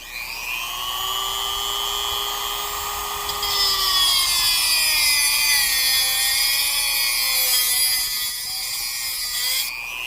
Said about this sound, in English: Mark out an inch, roughly, and just use a cutoff wheel.